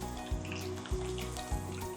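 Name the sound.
garlic cloves frying in oil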